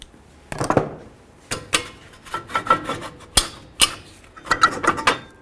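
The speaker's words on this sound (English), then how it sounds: "I'm just turning that little star wheel in there." A brake star wheel adjuster being turned on a 2006–2018 Jeep Wrangler rear brake, heard as short, close ratcheting clicks and scrapes in irregular bursts with brief pauses, no talking.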